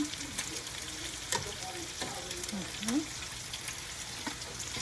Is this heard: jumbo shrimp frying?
yes